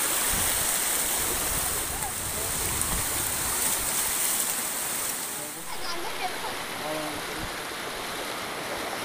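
Monsoon rainwater runs off from houses and swirls in a circle down into a deep hole, giving a steady, full rushing and gurgling close by with no pauses.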